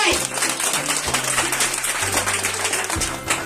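An audience applauds organizers and speakers at an International Women's Day event at the DXN office in Baridhara, Dhaka, with steady, dense clapping running throughout over low background music and voices.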